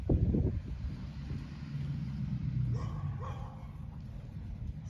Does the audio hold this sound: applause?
no